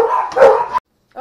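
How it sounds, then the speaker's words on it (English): Dogs at home bark loudly and close by in a short agitated burst, then go quiet before another bark starts. "the dogs are going nuts"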